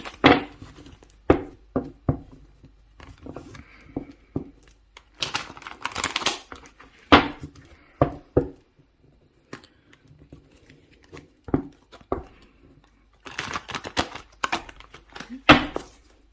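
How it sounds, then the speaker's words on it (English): A deck of tarot cards being shuffled by hand, a series of close crisp riffles, snaps and taps in irregular bursts with quiet gaps between, no talking. "So I'm just going to give the deck a quick shuffle."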